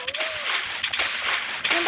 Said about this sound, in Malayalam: നമ്മൾ വെള്ളത്തിൽ ചാടുമ്പോൾ സൗണ്ട് കുച്ചിക്കൂന്ന്